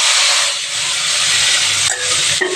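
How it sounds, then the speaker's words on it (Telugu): Chopped onions and tomatoes fry in a hot pan for urad dal chutney, giving a loud, steady hiss of sizzling that runs throughout with a couple of brief dips, and no talking. "ఇప్పుడు మనం కట్ చేసి పెట్టుకున్న 2 ఆనియన్ 2 టమాటాని వేయించుకుంటాం."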